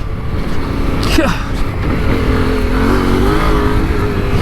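A Yamaha Ténéré 700 motorcycle with changed gearing accelerates hard as its front wheel lifts, its engine note sweeping upward and then holding a steady close roar under heavy wind buffeting.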